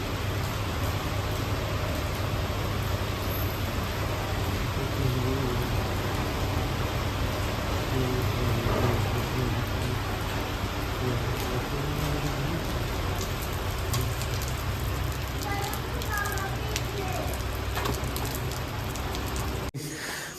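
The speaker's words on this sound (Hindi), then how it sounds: "अच्छी तेजी बारिश हो रही थी।" Steady, heavy rain pours down without a break, a dense wash of drops close by, with no voices throughout.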